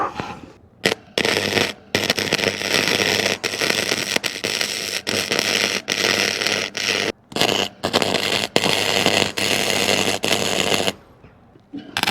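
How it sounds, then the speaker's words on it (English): MIG-style welding on the seams of a custom Honda Hornet scrambler's rear subframe: loud, close, continuous crackling and buzzing in long runs broken by brief pauses, with no talking. "that's all the seams welded"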